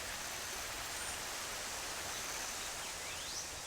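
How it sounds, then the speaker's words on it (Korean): Late-autumn forest stream in Gwangju, Gyeonggi, water flowing over moss-covered rocks strewn with wet fallen leaves, a constant soft, even rushing wash at low level with no distinct splashes or voices. "바위를 적시며 물이 흐른다."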